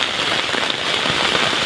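Heavy, sudden afternoon rain pours down close by in a dense, steady hiss with no let-up and no voices.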